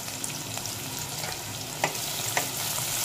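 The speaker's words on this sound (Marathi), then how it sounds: "कांद्याला चांगला आपल्याला लाल होईपर्यंत तेलामध्ये परतून घेते" Sliced onion frying in hot oil for a homemade mutton curry with whole spices, a steady close sizzle with occasional crackles and stirring scrapes, no voices.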